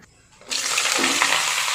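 Bitter gourd slices (uchhe bhaja) begin frying in a pan: after a quiet start, a loud, steady broadband sizzle bursts in and holds continuously to the end, with no talking.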